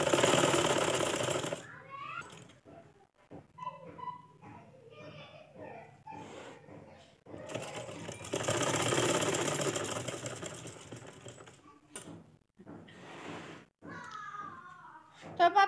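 Sewing machine running in bursts as it stitches stretch velvet, the motor whirring in steady stretches that stop and start again, close and moderately loud, with occasional background voices between runs.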